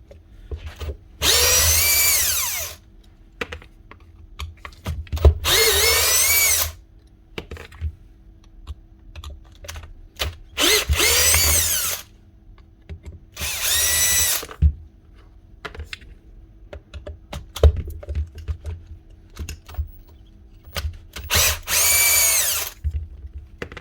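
A power tool whirs in five short bursts, loud and close, as it backs four bolts out of a Makita DVN600 finishing nail gun being repaired for misfiring, with clicks and handling noises between bursts.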